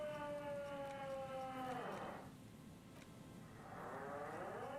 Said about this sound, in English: I feel like the siren is really loud.